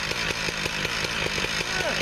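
A chainsaw with a bigger motor idles steadily just after a cold start in freezing weather around 7°F, its engine pulsing in a regular rhythm, close and loud throughout.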